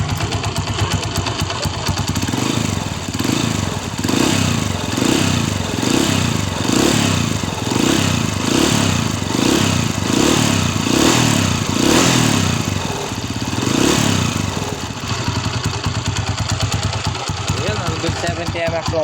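Yamaha TMX 155 motorcycle engine idles steadily at close range with a rhythmic, pulsing chug that swells and fades in regular waves, a mechanical clatter running beneath it.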